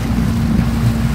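A boat travelling on open water at sunset, a steady low rumble of engine and water wash mixed with wind buffeting the microphone, continuous and close throughout.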